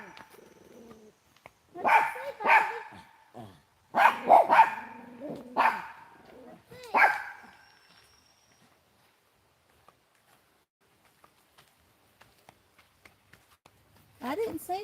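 A dog gives several loud, close barks in two quick bursts, then falls quiet, with faint ticks and rustles afterward and a voice returning at the end.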